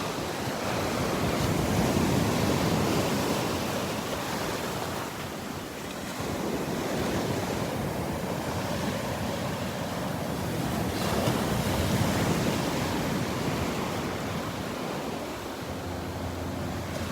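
Steady ocean surf rolls and washes along the shoreline at Delnor-Wiggins beach on a morning walk, a continuous roar of breaking waves mixed with gusty wind buffeting the microphone, with no talking.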